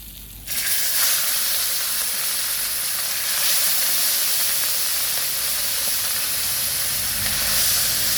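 Milkfish frying in hot oil, a second batch just added to the pan, gives a loud, continuous sizzling hiss that swells right after the fish goes in and stays steady and close throughout.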